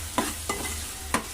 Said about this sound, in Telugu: ఉల్లిపాయలు అనేది బాగా వేగాలి, లేకపోతే బాగోదు